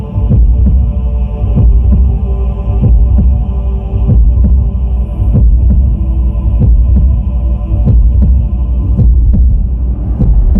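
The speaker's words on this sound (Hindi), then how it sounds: "यही आवाज मेरे जहन में गूंज रही है। Cybertronian heart beat?" A steady, loud rhythmic heartbeat-like throbbing pulses over a constant low hum, presented as a Cybertronian heartbeat converted from data into sound in a Transformers: Prime cartoon, with no voices.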